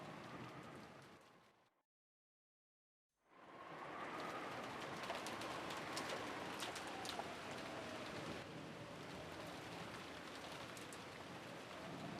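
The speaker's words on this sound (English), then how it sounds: "Filled only with the sounds of the rain." Steady rainfall patters densely on surfaces as a sound effect in the Umineko visual novel, broken by a sudden silent gap of about a second before the rain swells back at full strength.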